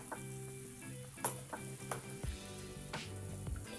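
Oats soup mixture being stirred in a pot, a steady soft sizzling bubble with spoon scrapes and light clinks against the pot, close and continuous, no voices.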